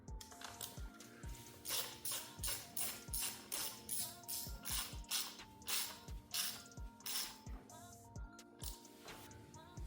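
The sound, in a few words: ratchet tightening car engine bolts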